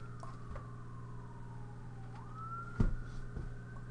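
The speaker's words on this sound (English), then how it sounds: "I hear that ambulance again." An ambulance siren wails outside, a steady tone sliding down then back up as it passes, moderately loud, with a brief thump near the end and no talking.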